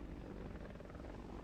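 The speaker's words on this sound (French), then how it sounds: "qui arrive en hélico?" A helicopter in the military video game Arma hums with a steady, low rotor drone, faint and constant throughout.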